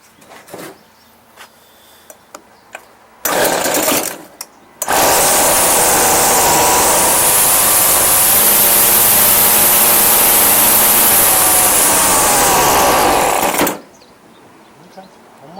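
A Craftsman 25cc 17-inch string trimmer engine sputters briefly, then catches and runs at a loud, high, steady buzz for about nine seconds during carburetor adjustment before cutting out. Faint clicks and handling noises come before it starts.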